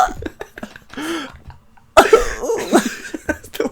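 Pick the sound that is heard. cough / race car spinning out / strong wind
cough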